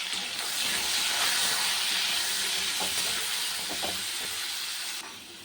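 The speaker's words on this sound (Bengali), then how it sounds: "সবজিটা ভাজা হয়ে গেছে" Vegetables with cumin, salt and turmeric frying in a pan for a fish curry, giving a steady, loud, close sizzling hiss that barely changes and eases slightly at the end.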